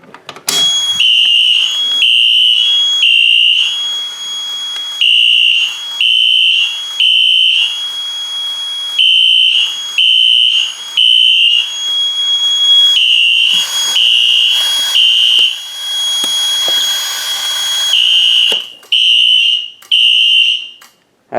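Wheelock fire alarm horns sound together during a fire alarm system test, giving loud, repeated bursts of piercing tones broken by short silences, with one steadier continuous stretch near the middle and no talking.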